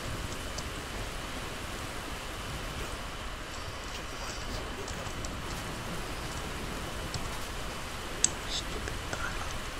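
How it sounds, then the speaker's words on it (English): Steady, even rain hiss in the video game Call of Duty: Modern Warfare 2 fills the whole stretch, a constant wash of falling drops with one brief tap near the end. "I know it's raining"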